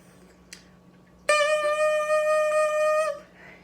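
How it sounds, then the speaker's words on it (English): After a faint tap, a bright, buzzy bassoon reed crow sounds for nearly two seconds, steady and reedy, then stops. "you should get a crow that sounds something like this"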